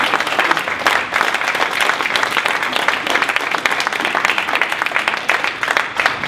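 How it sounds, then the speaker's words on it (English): An audience at a university presidential appointment gives a search committee sustained, lively applause, with close, crisp individual claps in a full, continuous round. "I think they deserve a great round of applause."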